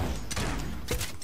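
Gunfire in the battle royale game Realm Royale, a couple of sharp shot bursts cracking over a busy, noisy game mix.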